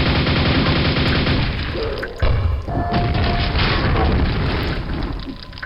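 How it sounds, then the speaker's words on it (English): Repeated nail gun fire in Quake, a rapid string of hard mechanical shots with booming impacts and crashes mixed in, loud and close, sustained throughout with a brief break partway. "you have to kill him with this kind of crappy nail gun"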